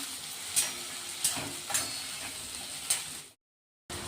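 Crushed garlic and ginger sautéing in hot oil, a steady close hiss of sizzling broken by a few brief crackling pops and stirring scrapes, with no talk before it cuts to silence near the end.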